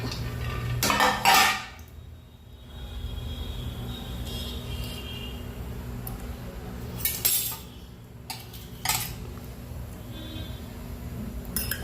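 A metal appe pan is handled in a home kitchen while cooking appe, giving a few scattered clanks and clinks, one louder clatter early and lighter knocks later, separated by quiet stretches.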